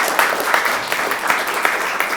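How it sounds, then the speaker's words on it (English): Steady crowd applause at a graduation ceremony, a dense continuous wash of many hands clapping at moderate distance, with no speech over it. "a round of applause"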